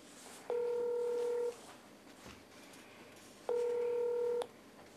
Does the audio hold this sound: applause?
no